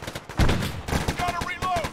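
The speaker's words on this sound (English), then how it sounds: "We're currently engaging contacts from the checkpoint. Under fire! Enemy fire!" Gunfire during a military operation, likely in a video game, with loud rapid shots crackling repeatedly over a couple of seconds while voices shout over the noise.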